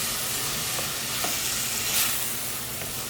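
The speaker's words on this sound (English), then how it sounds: "I'm gonna stir that around" Vegan black bean chili ingredients are stirred in a hot oiled pan, giving a steady soft sizzle with a few brief scraping clicks from the spoon, close and continuous for a few seconds with no talk.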